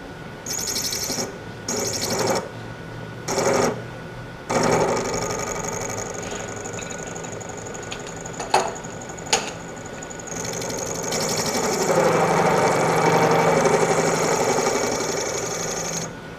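An end mill cuts a flat spot into metal on a milling machine, with the motor starting and stopping in short bursts, a couple of sharp clicks, then a longer, louder stretch of steady grinding cut.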